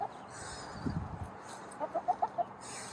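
Several quick, soft clucks from a nearby chicken come in a short burst, with a brief rustle just before.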